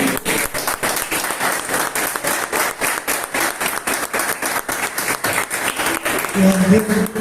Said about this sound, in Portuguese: Vamos dar uma grande salva de palmas para o nosso Senhor Jesus.